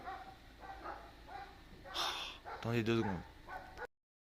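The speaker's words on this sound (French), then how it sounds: "Ils me font chier à gueuler les clébards." Dogs bark and yelp nearby in a couple of short, loud bursts while someone speaks French before and between them.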